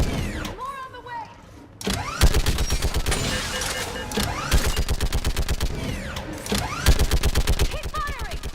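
Sustained automatic gunfire in the video game Mass Effect 3, a rapid stream of loud close shots broken by short pauses, with shouted voices over the battle.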